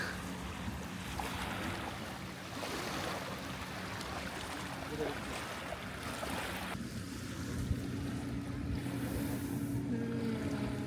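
Ocean surf at Port Hughes beach washes in continuously and fairly softly, with wind buffeting the microphone and a broad, steady roar.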